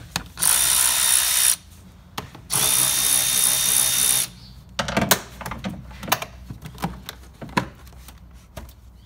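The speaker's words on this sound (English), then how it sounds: "we're going to take a 7mm socket and remove the upper portion of the intake." A power tool drives a 7mm socket to remove the upper intake bolts on a 2011-2017 Ford engine, giving two sustained whirring bursts followed by quicker clicking and ratcheting of the socket and loose parts.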